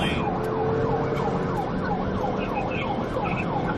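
Police car siren wailing in a steady, rapid up-and-down cycle during a pursuit, loud and close over the rumble of road traffic.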